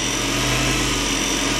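An old teleprinter's motor runs steadily, a constant mechanical whir with a low hum beneath it and no pauses.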